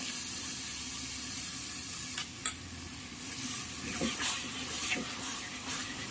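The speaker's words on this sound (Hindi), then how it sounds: "इस मिश्रण को भी हमें लगातार चलाते हुए ही धीमी आंच पर पका लेना है।" Semolina, ground coconut and milk mixture cooked over low heat, stirred steadily with a soft continuous sizzle and a few scraping strokes of the spoon against the pan, close and fairly quiet with no talking.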